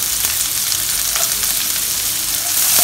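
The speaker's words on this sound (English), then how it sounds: "Fry them until fragrant." Sliced red onion and three cloves of chopped garlic fry in hot oil in a wok for Singapore-style fried vermicelli, giving a loud, continuous crackling sizzle with no talking.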